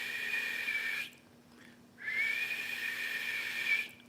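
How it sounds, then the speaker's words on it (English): A person whistles a long, steady high note, pauses for about a second, then holds another sustained note to the end, close and fairly loud with no talking. "I've been practicing whistling."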